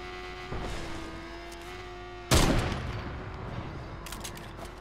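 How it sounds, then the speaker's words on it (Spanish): Gunfire in the video game Fortnite: a single loud, sharp burst cracks out midway over a steady low hum, then its echo decays, with a few faint pops after. "Alguien me está disparando por ahí."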